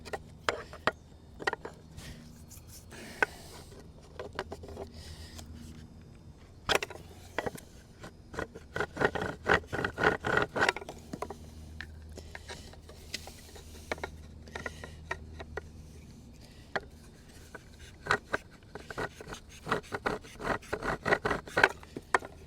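Dry wooden scraping and rubbing of a spindle worked for a friction fire, irregular bursts of grinding friction strokes close by, louder and denser in stretches, with no talk.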